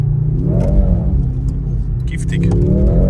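A four-cylinder Mercedes C63 AMG in drift mode revs with a loud, close engine drone that climbs and falls in pitch, while people talk over it.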